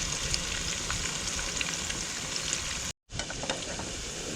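Raw bonito fish pieces fry in a pan with a steady, close sizzle, dropping to near silence for a moment before the crackling resumes.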